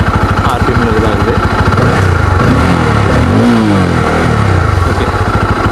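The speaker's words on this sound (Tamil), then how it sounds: "ஆர்பிஎம் ரேவ் பண்ணுற பாருங்கள்" A Bajaj Pulsar N250 motorcycle engine idles and revs, its loud, steady mid-range drone rising and falling in pitch as the throttle is blipped, with a person talking over it.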